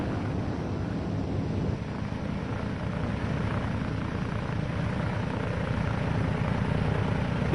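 A Chance Vought F4U Corsair fighter on its landing approach, its engine and propeller making a steady, dense broadband roar that holds without a break throughout, with some wind rush over it and no voices.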